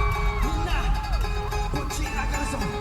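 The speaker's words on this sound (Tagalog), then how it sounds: "Grabe, hiyawan, no? Ang ingay na naman." Concert crowd at a performance at Summer Sonic Tokyo, loud and continuous screaming and cheering filling the whole stretch, with music and shrill voices blended into a dense, steady roar.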